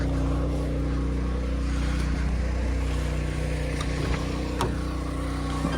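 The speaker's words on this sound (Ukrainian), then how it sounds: "генератор працює, тягне нормально" A backup generator runs while charging a Renault Zoe electric car, a loud, close, steady engine hum with a constant drone and no talk over it.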